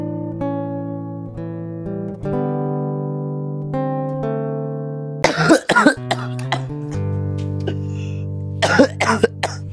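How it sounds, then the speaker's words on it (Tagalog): Sustained electronic tones and chords play, then several short harsh coughs burst out in quick clusters over the music near the end. "Grabe ang ubo mo, anak, ah."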